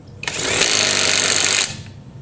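A Bamse cordless 1/2-inch impact wrench runs in forward at its lowest speed, a loud, close mechanical whir that rises quickly, holds steady for about a second, then stops.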